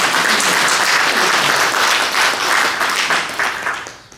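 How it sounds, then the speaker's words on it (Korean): Applause from the audience at a Korean-American church council New Year prayer breakfast, a dense, steady burst of many hands clapping together that holds for about four seconds before gradually thinning out. "우리 교회 협의회 임원들께 한번 박수를 한번 보냅시다."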